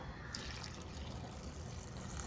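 Water pours steadily into a pot of cucumber and mango curry with green chillies, a continuous splashing fill with no talking, close by.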